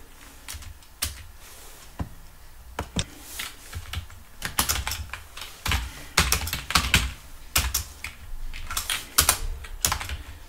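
Keys clicking on a computer keyboard during a Python tutorial, sparse single taps at first, then denser irregular bursts of typing, close and fairly quiet.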